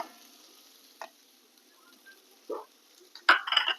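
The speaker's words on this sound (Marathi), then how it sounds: "आता आपण इथं उकडलेले बटाटे ते टाकतोय" Boiled potatoes being gently stirred and fried in ghee, with a faint low sizzle, a few soft scrapes and a louder burst of stirring at the end, close by and quiet overall.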